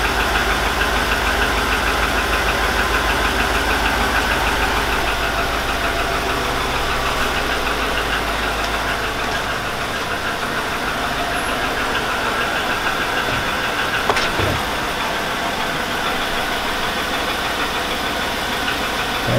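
2002 Chevy Avalanche 5.3L engine idling with rod knock, a steady rhythmic knocking over a continuous mid-pitched engine drone, heard up close, with one sharp louder tap near the end.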